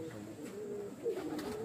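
Breeder and flying pigeons give a short, soft, low coo that wavers near its end, faint against a steady background hum.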